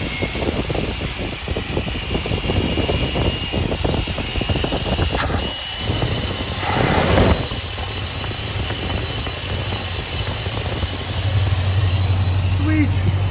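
An engine fitted with a Thermoquad carburetor runs at fast idle, a steady low rumble that holds throughout while people talk over it.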